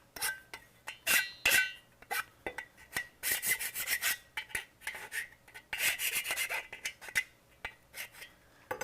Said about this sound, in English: I'm going to file down these edges really quickly.